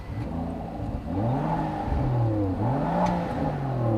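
A Rolls-Royce Cullinan engine revs up and down several times in smooth, rising and falling sweeps, heard close and fairly loud without any talking.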